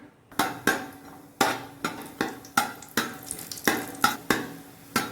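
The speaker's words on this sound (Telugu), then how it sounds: "ఆయిల్ వేసిన తర్వాత కాజు వేసుకోవాలి" Cashews frying in oil in a pan for biryani, about a dozen sharp rhythmic scrapes and knocks of a spoon against the pan over a light sizzle, close and clear.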